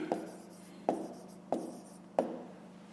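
Pen strokes on paper during a fifth-grade math exercise: four short, crisp scratches at a steady rhythm, close and fairly quiet, with no talking.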